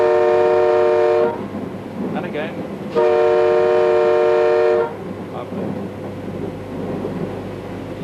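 Class 91 electric locomotive horn sounds two long, loud tonal blasts from the cab, with rumbling rail noise underneath and a brief spoken phrase between them.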